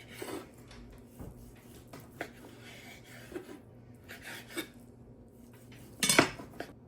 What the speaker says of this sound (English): Just going to roughly chop it.